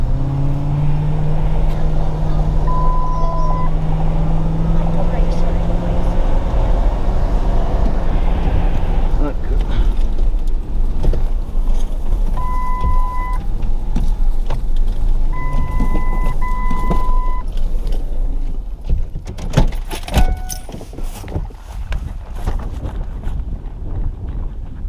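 A vehicle passes along a rural road during a deer hunt with dogs, its low rumble steady under wind buffeting on the microphone. The vehicle fades after about twenty seconds, and people talk over it.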